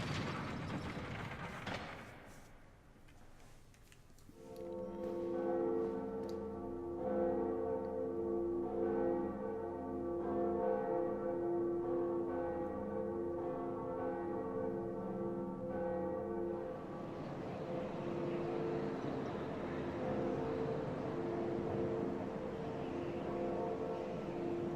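A large bell tolls in the Dark Souls video game. A low rumble gives way to a sustained, ringing metallic tone with rich overtones, then a second bright strike swells and lingers loudly to the end.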